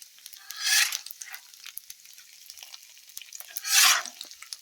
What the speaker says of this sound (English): Roast chuck mac and cheese grilled in a shit ton of butter